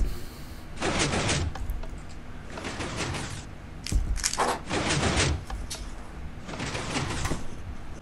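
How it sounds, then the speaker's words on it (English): A Minecraft redstone piston 3x3 door works as a player sprints through, giving a series of sharp mechanical clacks and slides in quick clusters, opening and shutting in bursts at moderate volume. "And now I'm going to sprint through this door and you'll see I won't even touch it."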